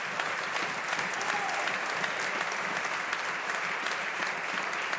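Dense, sustained applause from many members filling the House of Commons chamber, a steady wash of clapping at moderate level throughout with no pauses.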